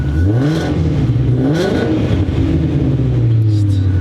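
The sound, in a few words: Shelby GT350 800R twin turbo engine revving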